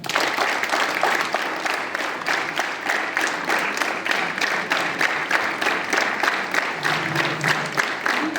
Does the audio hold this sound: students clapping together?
yes